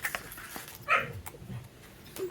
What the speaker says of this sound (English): sorry, the dog put me off then.